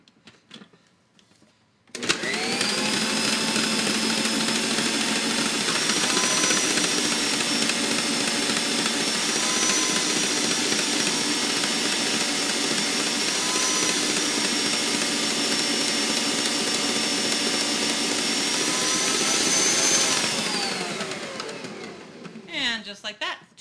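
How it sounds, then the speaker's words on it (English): A stand mixer's grating attachment shreds two pounds of cheese, a steady loud motor whir with a grinding, rattling edge that runs continuously for about eighteen seconds before cutting off. "I have the grating attachment for my mixer, of course, so it makes really short work of this."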